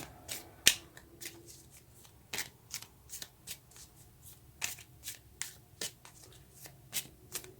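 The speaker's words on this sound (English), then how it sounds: "let's get some cards to clarify" Tarot cards being shuffled by hand, with a series of crisp, separate riffling slaps and taps at an irregular rhythm, quiet and close, with no talking.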